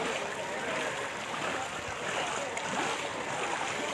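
Floodwater after heavy rain rushes steadily along a town road in Marwar Junction, Pali district, Rajasthan, a continuous broad wash of flowing water with no pauses, moderately loud and close.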